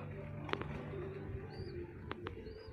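Faint cooing from a young pigeon in a home loft, with a couple of soft calls under low background hum and a quiet voice nearby.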